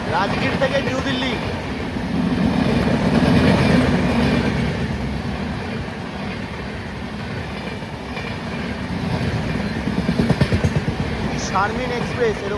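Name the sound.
passing train on the railway line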